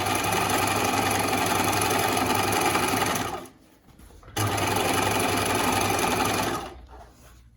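A sewing machine runs steadily, stitching down a V-neck seam on a bound edge garment, with a loud continuous whir that pauses for about a second before starting again and then slowing to a stop.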